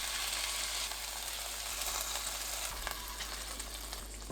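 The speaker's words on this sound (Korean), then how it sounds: "4-5분 정도 껍질이 살짝 노릇하게 구워주세요" Semi-dried pollock (kodari) pan-grilling skin-side until golden gives a steady, close sizzle with a constant fine crackle, loud and unbroken throughout with no voices.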